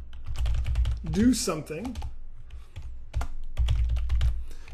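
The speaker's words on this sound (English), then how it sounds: "If I can quit fat fingering on the keyboard." Fast typing on a computer keyboard while coding a simple Windows 8 HTML app, rapid clicky keystrokes in bursts close to the mic, with someone talking briefly over them in the middle.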